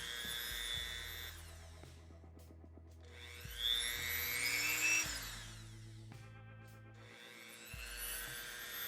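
A Dremel rotary tool clogged with dry resin debris whines in long steady bursts, its pitch rising and falling as it bogs and speeds up, with short pauses between runs; no talking.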